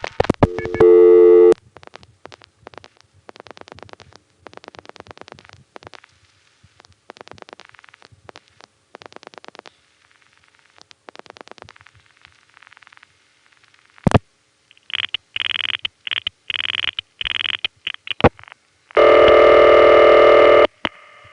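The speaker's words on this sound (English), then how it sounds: "when calling a number 1 crossbar, the revertive pulsing has a steady pulse rate" Revertive pulsing on a call into a Number 1 crossbar telephone switch, the first crossbar 1 in New York, President 2 office on Troy Avenue, Brooklyn: a steady, even stream of clicking pulses, with loud tone bursts toward the end.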